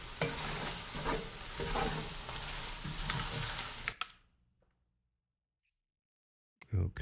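A spoon stirs food in a frying pan, a steady scraping sizzle for about four seconds, then it stops abruptly and near-silence follows, broken by a brief knock at the end.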